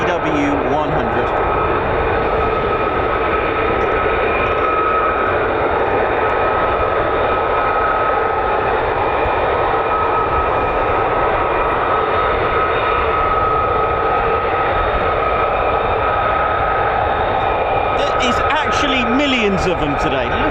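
An F-35 fighter jet powered by a Pratt & Whitney F135 afterburning turbofan roars continuously and loudly throughout, a steady broad engine rumble at RAF Lakenheath, with talk running beneath it.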